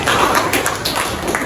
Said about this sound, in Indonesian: Tepuk tangan buat Rindu atas keberaniannya buat kita